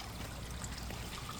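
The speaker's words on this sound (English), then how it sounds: "a pondless water feature, all with material I had at my shop" Water trickles steadily through a homemade pondless water feature built from scrap shop materials, a soft continuous splashing with no voices.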